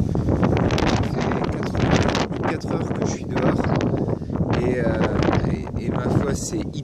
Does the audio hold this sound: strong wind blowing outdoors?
yes